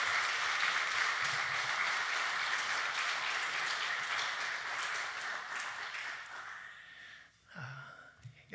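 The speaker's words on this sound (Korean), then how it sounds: "우리 목사님 나오실 때 박수로 여러분 크게 환영하겠습니다." Church congregation applauding to welcome the pastor to the front at a Sunday worship service, a steady dense wash of clapping that thins and fades toward the end.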